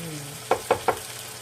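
Oyster sauce and carrots sautéing in a pan for pancit bicol guisado: a steady sizzle broken by three quick, evenly spaced stirring scrapes, close and alone.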